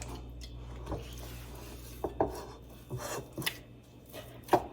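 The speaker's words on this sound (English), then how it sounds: "I'm just gonna start pulling and folding this and enclosing and incorporating that salt" Wet hands stretch and fold Kamut sourdough dough with salt in a bowl, giving soft, irregular squelching slaps and rubs at close range, with no talking.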